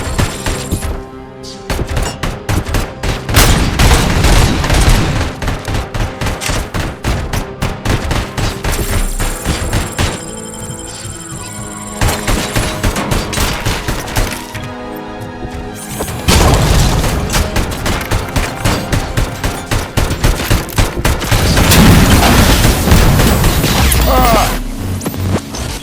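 Loud, sustained gunfire and booming impacts from an ED-209 attack in the video game Robocop Rogue City, with dense bursts of shots and crashes continuing almost without pause.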